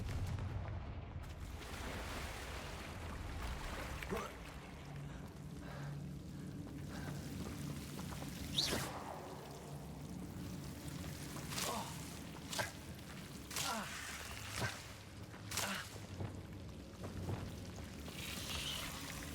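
Confringo blasting spell explosions in the Hogwarts Legacy video game, a run of sharp bursts and whooshes over a rumbling game background, moderately loud.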